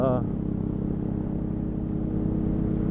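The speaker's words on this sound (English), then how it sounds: "There's that exhaust that just is mean as the devil" A motorcycle exhaust rumbles in a steady, low, close drone during a winter ride, with a person talking over it.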